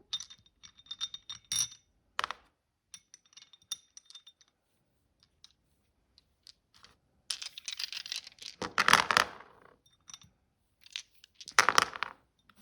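Small hard objects clatter and tumble in a few bursts, with light clicking between, close and fairly quiet with no talking.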